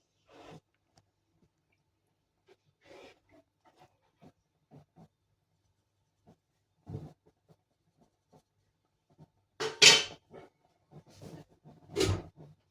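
Sparse quiet clinks and scrapes of kitchenware, then a couple of sharper clanks as a metal lid is set down on a pot, near and fairly loud.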